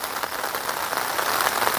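Light drizzling rain falling steadily on a village on a morning near the Feni border, a soft, even hiss with fine patter throughout, close and continuous.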